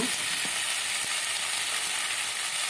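Tangra fish curry with tomato paste sizzling loudly and evenly in a pan as it is stirred, a dense continuous hiss with a couple of faint spoon knocks.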